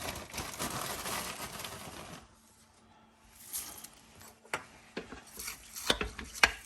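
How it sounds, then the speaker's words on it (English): A spoon scrapes and stirs through ingredients in a pot for a sauerkraut dish with potatoes and onions, giving soft rubbing and clinking sounds, busy at first, then a quiet pause, then sporadic knocks. "And kind of stir it in."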